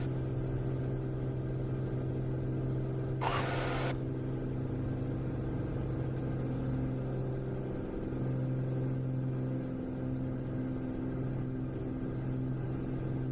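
A Piper Malibu PA46 piston engine runs at takeoff power, a steady droning hum with a low propeller tone that holds constant throughout the climb-out.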